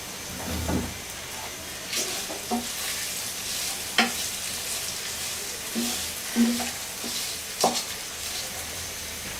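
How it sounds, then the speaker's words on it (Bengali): Cloves and cinnamon pieces, with bay leaves, fry in a pan for khichuri, giving a steady soft sizzle broken by several sharp scrapes and clacks of stirring. "তিন চারটা লবঙ্গ আর দুই তিন টুকরা দারচিনি দিয়ে আমি এগুলোকে ভাজবো"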